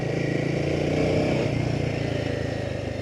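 A Himalayan 450 motorcycle engine chugs steadily while riding, a close, loud low-pitched thrum with an even pulsing rhythm throughout.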